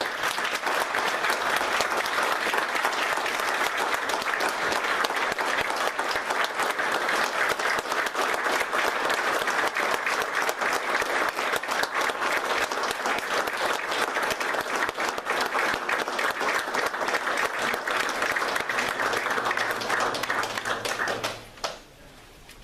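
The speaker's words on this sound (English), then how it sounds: "We have another round of applause" An audience applauds at a police department's officer citation ceremony, a steady, loud burst of many hands clapping that goes on without a break for about twenty seconds, then stops abruptly.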